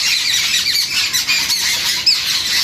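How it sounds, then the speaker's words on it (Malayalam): Shrill bird squawks and squeals chatter continuously and loudly, with sharp high calls overlapping throughout and no voices. "കിളികളുടെ സൗണ്ട് കേൾക്കണ്ട കേട്ടാ"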